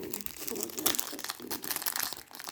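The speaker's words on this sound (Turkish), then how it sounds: "10 paket açıyoruz arkadaşlar" Foil football trading card packs being torn and crinkled open, a steady run of close, dense crackling and ripping lasting a few seconds, no voice over it.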